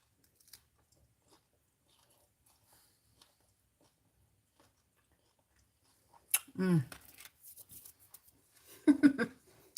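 Fried meat-filled lumpia being bitten and chewed up close; two loud crisp crunching bursts break an otherwise near-silent stretch, with a brief voice around them.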